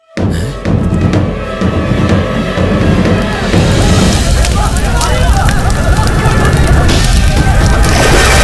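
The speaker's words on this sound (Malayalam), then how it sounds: "ബാങ്കിന് തീ പിടിച്ചു" A bank building burns in a movie scene, a dense, loud crackling roar with sharp pops and bangs that fills the whole stretch, with voices and commotion mixed in.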